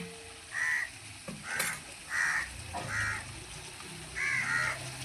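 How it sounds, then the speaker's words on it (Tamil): Crows caw over and over in short, fairly loud calls spread across the clip, heard near an outdoor home kitchen where chicken gravy is being cooked, with faint background noise. "என்ன இவ்வளோ காக்கா வந்துட்டு சிக்கன் கிரேவிக்கு?"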